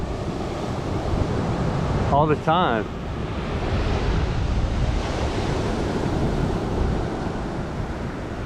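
Rough sea waves surge and wash continuously with heavy wind buffeting the microphone, loud and close, while a person speaks briefly over the roar.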